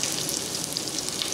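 Cumin seeds and green chillies sizzling in hot oil for a Pakistani yellow moong dal, a steady close crackling hiss with no talk.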